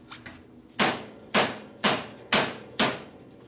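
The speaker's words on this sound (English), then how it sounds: "we just have to hit it with a hammer to pop it, and it should come right off" Five sharp, loud hammer blows ring out about half a second apart, striking a part on a 1973 Harley-Davidson Shovelhead 74ci engine to pop a taper loose, each hit decaying quickly in a quiet workshop.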